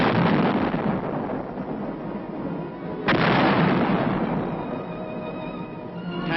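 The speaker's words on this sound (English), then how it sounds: "155 howitzers fire a sharp warning at the advancing Chinese" 155 mm howitzers firing, heavy booming blasts with a long rolling rumble, a second sharp report a few seconds in, recorded in muffled archival sound.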